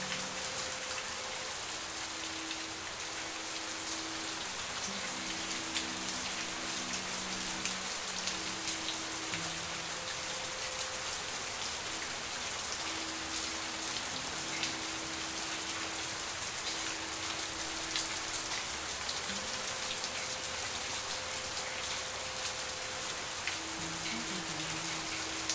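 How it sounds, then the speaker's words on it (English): Steady rain falls in the video game The Path, a soft, even patter of drops that continues throughout, with quiet sustained music tones underneath and no voices. "And rain. Of course it rains."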